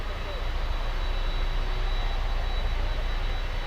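An American Airlines Boeing 737 jet arrives at Miami airport, a loud, steady engine roar with a thin whine running through it, sustained the whole time without talk.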